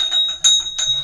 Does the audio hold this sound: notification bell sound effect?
yes